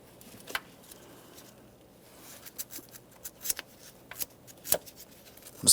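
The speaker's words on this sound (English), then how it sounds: "For this, I'm just using some fine sandpaper." Fine sandpaper rubs back and forth over the starter wire terminal ends of a 2007-2017 Jeep Patriot 2.4L four-cylinder, giving close, scratchy bursts of scraping that grow more frequent and louder toward the end.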